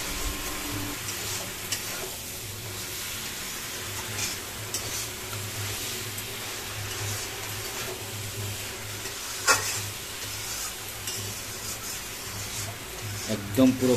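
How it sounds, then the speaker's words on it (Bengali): Cut eggplant fries with spices as it is stirred in a pan, a steady sizzling hiss with occasional scrapes and clinks, with someone talking over it. "এখন খুব সুন্দর করে মশলার সাথে বেগুন কাটাগুলো নাড়িয়ে চাড়িয়ে নেবে মা।"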